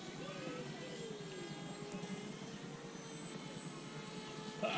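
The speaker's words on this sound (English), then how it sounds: "And here comes the lead airplane. Very nice." A small radio-controlled model airplane engine whines faintly overhead during a combat flying event, its pitch drifting as it flies past, with some low murmuring in the background.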